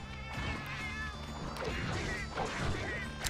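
A cat meows repeatedly in the video game Monster Hunter Generations, its cries mixed with thuds and clashes of in-game action at moderate volume.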